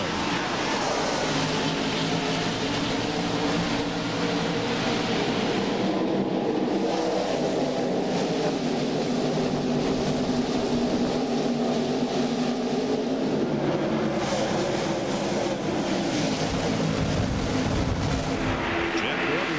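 A NASCAR field at the 1999 TranSouth Financial 400 rolls out of turn four toward the green flag, a dense, continuous roar of many stock car engines swelling under a commentator's voice.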